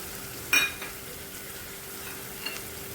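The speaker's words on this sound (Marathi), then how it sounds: "टोमॅटो सुद्धा आपल्याला याच्यामध्ये घालून आता परतून घ्यायचं आहे" Capsicum and tomato sauté in a pan for paneer bhurji, producing a faint, even frying hiss with one brief utensil knock early on and a softer one later.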